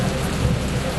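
Heavy monsoon rain pours steadily in Washim district, Maharashtra, a dense close roar of falling water with deep low rumbling like thunder underneath, continuous and loud throughout with no voices.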